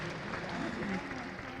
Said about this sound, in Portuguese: uma salva de palmas para a Doma, para o Doc, por esses 40 anos